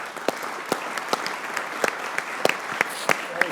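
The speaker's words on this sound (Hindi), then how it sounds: "यार अहमद भाई के लिए तालियां यार" A live audience applauds for cricketer Ahmed Shehzad, a dense burst of clapping with sharp individual claps standing out throughout, fairly close and continuous for several seconds.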